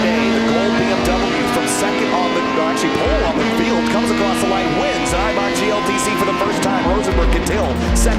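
GLTC race cars, led by a gold BMW, roar through the last corner and over the finish line at a Midwest Festival race. Loud, layered engine drone with shifting revs runs the whole time, under a commentator's voice.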